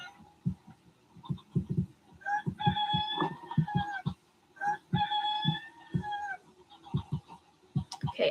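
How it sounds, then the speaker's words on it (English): Chickens cluck in the video game Minecraft, a crowd of short repeated clucks and a few drawn-out squawks layered together over a horse ranch, steady and fairly close. "Oh my gosh, there's so many chickens."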